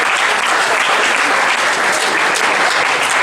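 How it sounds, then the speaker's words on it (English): Loud, dense applause from an audience at a student-athlete awards ceremony, many hands clapping steadily and close for about three seconds with no speech over it. "So give her a round of applause."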